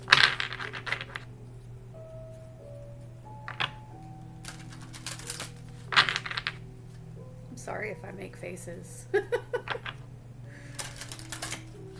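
Tarot cards riffle and clatter in short bursts of shuffling, close by, between stretches of someone talking over a low steady hum.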